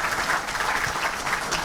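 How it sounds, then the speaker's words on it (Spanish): Audience at a public-sector conference on open data and digital transformation gives a round of applause, steady many-handed clapping throughout, moderately loud and close. "al que le pedimos un fuerte aplauso"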